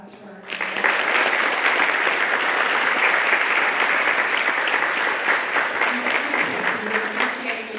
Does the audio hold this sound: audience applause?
yes